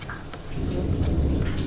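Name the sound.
rain falling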